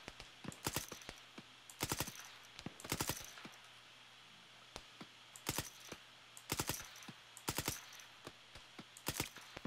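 Suppressive gunfire in Arma 3 during a hostage rescue mission: short bursts of sharp automatic shots repeating in clusters about a second apart, close and crisp against a quiet background.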